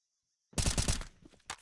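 Rapid automatic gunfire in Counter-Strike sprayed through a smoke at B main on the Ancient map, a loud close burst of rattling shots after a moment of near silence, then a shorter final burst.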